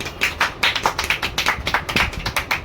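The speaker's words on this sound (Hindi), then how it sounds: "ताली बजाओ।" Hands clap in a quick, steady series of sharp, close smacks, about a dozen across the stretch, at a household chocolate-prize soft drink guessing challenge between brothers.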